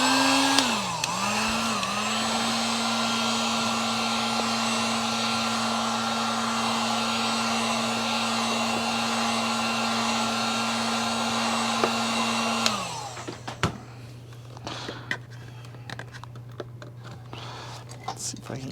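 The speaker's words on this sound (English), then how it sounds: "My heat gun is here." A heat gun runs loudly and steadily with a constant motor whine and airflow roar during a repair on a Bissell SpotClean Pro 1558n hose, then switches off, leaving quiet handling clicks and faint rustles.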